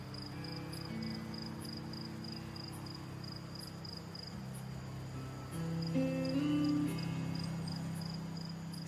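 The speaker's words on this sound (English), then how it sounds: "This file that I called Crickets Night Masai Mara." Crickets chirp at night in the Masai Mara, a steady high pulsing trill over a quiet hum of other night insects.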